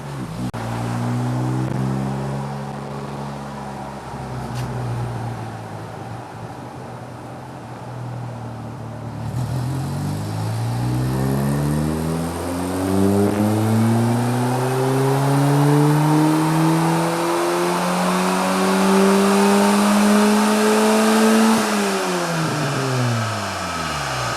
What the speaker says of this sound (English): we've pulled the air filter out of it. Chris reckons we're going to gain about a horsepower out of this